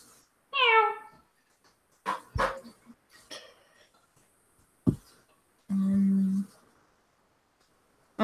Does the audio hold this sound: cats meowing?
yes